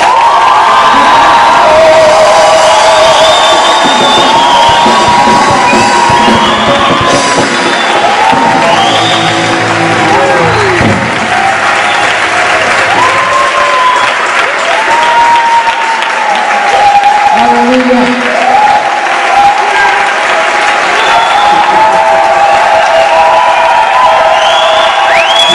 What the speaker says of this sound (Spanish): el mejor y más grande aplauso para Jesús de San Luis.